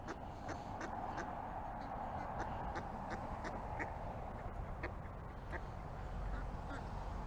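Ducks quack repeatedly in short bursts by a pond beside a little duck house, fairly distant under a steady outdoor wash of wind and background noise.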